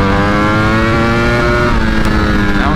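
A 2020 Ducati Streetfighter V4 with a full exhaust system and a flash-tuned ECU screams hard through second gear. The engine note rises steadily to the rev limiter, loud and close, with no talking.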